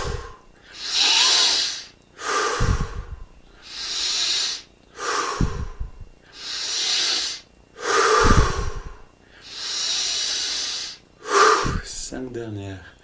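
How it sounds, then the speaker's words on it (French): Deep, slow breathing during a yoga and meditation session, with long hissing inhales and exhales at full amplitude, alternating in a steady rhythm of about six breaths, close and loud, with a few low voiced sighs. "on est au maximum de l'amplitude sur l'inspire et l'expire"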